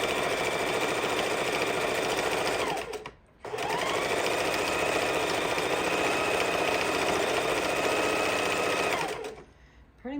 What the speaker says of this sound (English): I think I'm just going to pretty much sew one line straight across the entire length